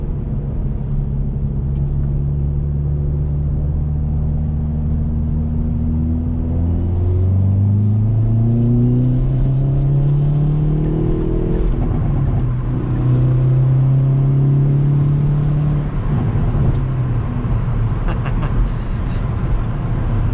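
A facelifted 2021 Hyundai Veloster N on summer tires drives at night, its engine droning loudly from inside the cabin and climbing in pitch through the gears, with rising revs, a shift and a steady rumble.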